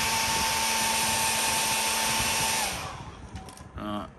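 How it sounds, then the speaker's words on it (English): A hair dryer blowing on a watercolor painting, a loud steady whir for under three seconds before switching off, leaving quiet room sound and a brief rustle. "I'm going to hit that with a dryer real quick to kind of get it pretty close to dry."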